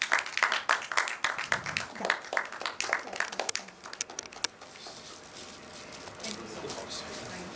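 Audience applause at a retail industry event, a burst of dense clapping that thins out after a few seconds into scattered claps and low room murmur.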